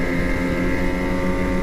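An 850 snowmobile engine drones steadily as the sled runs along a freshly groomed trail, loud and close, with wind rushing over it and no pause.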